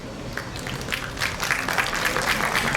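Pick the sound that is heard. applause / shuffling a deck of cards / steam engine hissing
applause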